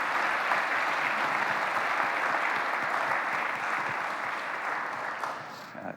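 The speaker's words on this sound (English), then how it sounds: "how about a round of applause for the organizing committee?" A conference audience gives sustained applause to the organizing committee at a recommender systems conference's opening session, a dense steady clapping that tapers off slightly toward the end.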